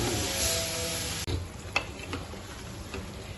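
Aloo methi, potatoes with fenugreek leaves, stirred and frying in a pan, giving a steady close sizzle with a few sharp scraping ticks from the spoon.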